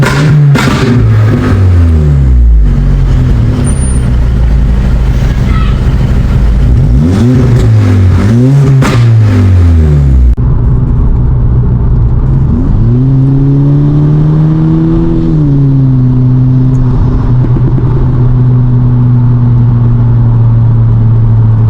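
Close, loud car engine revving repeatedly with rising and falling pitch, then settling into a steadier drone with one more swell, no voices present.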